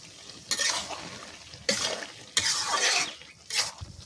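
A spoon stirring spiced pasta in a frying pan, heard as four separate bursts of scraping and sizzling, each lasting under a second to about a second, with quiet gaps between them, close up and without speech.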